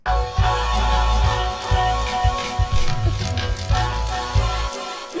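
A sampled loop of vocal jazz plays loud and steady with layered voices and a low pulsing bass, cutting off just before the end.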